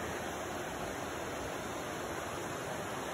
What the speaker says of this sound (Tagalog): Sariwang ilog.